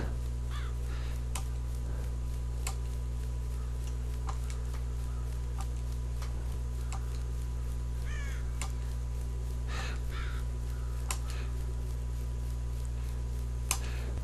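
Crows caw in the Child of Light video game, a scatter of short calls rising now and then over a steady low ambient drone, with some faint ticking in the background.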